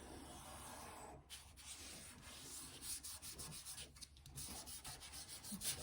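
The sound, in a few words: rubbing paper over a printing plate, printmaking kit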